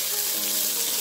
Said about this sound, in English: So that is the garlic being added.